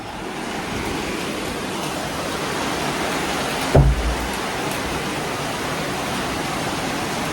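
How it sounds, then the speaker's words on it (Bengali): Evening rain pours steadily on a house, a dense even wash of noise with one brief low knock midway and no voices. "শব্দ শুনতে পাচ্ছ তোমরা বৃষ্টি হচ্ছে"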